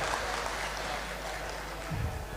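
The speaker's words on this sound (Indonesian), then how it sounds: "Tepuk tangan sekali lagi untuk Pak Giarto." A crowd at a party meeting in Pemalang claps for Pak Giarto, a dense wash of applause over a low hum, with a brief voice breaking through near the end.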